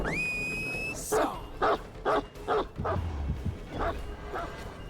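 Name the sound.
dog barking in Dead by Daylight video game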